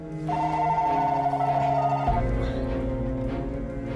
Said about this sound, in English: Carla uses her cell phone to call their home line